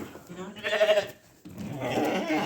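Goats bleat close by in a farm pen, a wavering cry followed after a short pause by another longer, rougher call.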